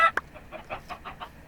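A chicken in a video game gives a sharp squawk followed by a run of quick, soft clucks in an uneven rhythm, close and clear with no talk over it.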